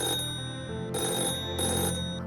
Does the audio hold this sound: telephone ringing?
yes